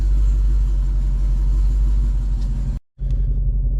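Deep, steady rumble of a Dodge Hellcat's engine idling as the car backs out of a garage, loud and close, with a brief dropout near the end before the low growl resumes.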